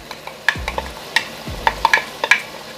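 Saltfish goes into sautéing callaloo in a pan, with loud sizzling frying under repeated sharp scraping stir strokes and two low thuds, heard close up with no talk.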